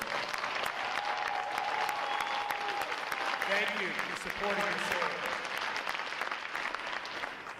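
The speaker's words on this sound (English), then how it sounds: "Ladies and gentlemen, a round of applause for family and friends attending today, please." Crowd applause for family and friends at a Navy boot camp graduation at Recruit Training Command, a sustained wash of clapping across a large venue while an announcer speaks over it.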